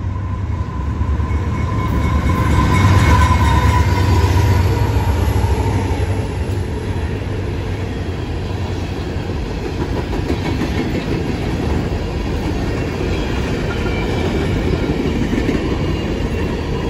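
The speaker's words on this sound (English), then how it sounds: "The westbound empty BNSF Powder River Basin coal train coming past the uh," A long westbound empty BNSF coal freight train rolls steadily past LaGrange Road station, Illinois, a continuous heavy rumble with rhythmic wheel clatter and a faint high squeal, sustained throughout.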